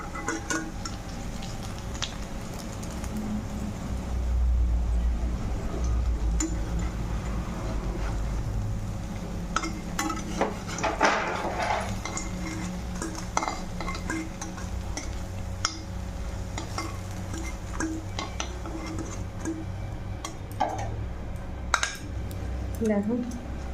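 Pumpkin flower fritters lifted from hot oil in a pan, with metal utensil clinks and scrapes against cookware over a steady low frying sizzle, close and moderately loud, no talking.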